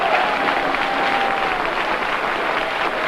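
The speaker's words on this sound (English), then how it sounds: "The applause for Major Hickspeech, who has once again been returned as Conservative representative for the constituency of Cheltenham." An election-night crowd at the 1959 Cheltenham count keeps up steady, dense clapping for the re-elected Conservative member, with a voice faintly audible beneath.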